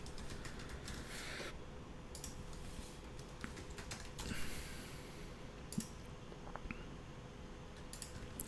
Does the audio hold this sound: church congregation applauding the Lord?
no